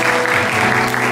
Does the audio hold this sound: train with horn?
no